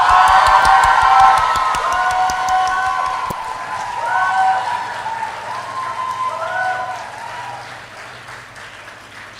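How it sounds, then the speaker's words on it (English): Audience at a St. Xavier's College event in Mumbai breaks into loud, sustained applause with cheering and whoops, opening with brisk rhythmic claps and then settling into a dense wash that gradually fades. "Big round of applause for Akshara ma'am."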